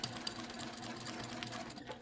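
A domestic sewing machine runs a steady, fast stitching whir as it sews a straight quilting line beside tape on a quilt, close and fairly quiet with no talking.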